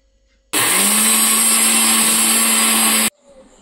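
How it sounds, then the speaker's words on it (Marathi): An electric mixer grinder whirs loudly as it grinds potato chips into fine crumbs for coating onion rings, starting abruptly, holding a steady high-pitched whine for about two and a half seconds, then cutting off. "हे चिप्स आपण मिक्सरला बारीक करून घेऊया"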